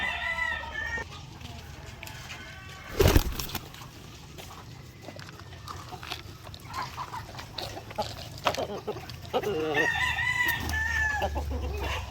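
Faint Asil and Rhode Island chickens clucking and crowing in the background of an outdoor space at feeding, with a low hum and a sharp thump partway through.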